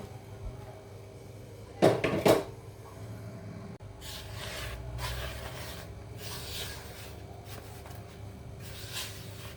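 Dry ingredients for salted jeera biscuits with black cumin being mixed in a bowl, with two sharp knocks early on, then soft repeated scraping and rubbing strokes, fairly quiet, with no talk.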